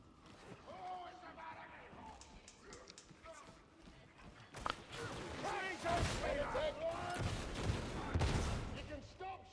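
Gunfire in Warhammer 40,000: Darktide, loud overlapping shots and bursts building after the first few seconds amid chaotic combat noise, with people talking throughout.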